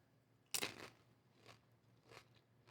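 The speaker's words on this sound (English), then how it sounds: "I'm gonna try a bite on camera so you can all really know how good this" A single loud, close crunch of someone biting into crunchy corn and black bean salsa, followed by softer chewing crunches.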